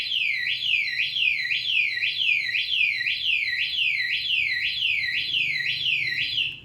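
A 2015 Kawasaki Ninja 250 anti-theft alarm wails in a steady, repeating up-and-down siren pattern, loud and continuous for the whole stretch with no voices.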